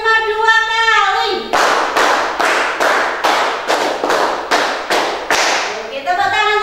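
A fifth-grade Indonesian primary class claps a rapid run of about ten loud, evenly spaced group claps, with chanting voices just before and after.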